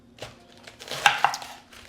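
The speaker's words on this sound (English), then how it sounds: "So go ahead and get this chopped up and rinsed off." Salad ingredients chopped on a cutting board, a handful of irregular knife taps, a few crisp louder strikes in the middle, close and quiet with no talking.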